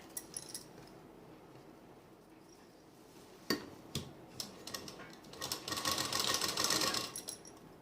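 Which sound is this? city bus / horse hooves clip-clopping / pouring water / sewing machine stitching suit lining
sewing machine stitching suit lining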